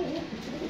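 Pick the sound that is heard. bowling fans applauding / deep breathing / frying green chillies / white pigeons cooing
white pigeons cooing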